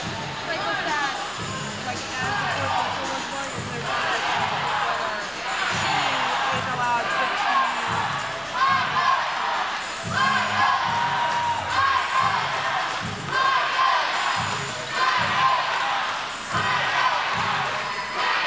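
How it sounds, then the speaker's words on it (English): Spectators at a roller derby bout cheer and whoop in repeated waves, loud and nearby, while crowd chatter carries on under the bursts of shouting throughout. "Wait, who are you guys cheering for?"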